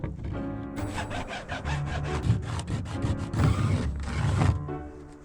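A saw cuts through a scrap piece of half-inch plywood in rapid back-and-forth strokes, a rhythmic rasping that builds in loudness toward the end, heard up close with no talking.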